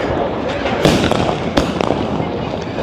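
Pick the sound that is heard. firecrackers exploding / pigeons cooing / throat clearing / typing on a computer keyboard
firecrackers exploding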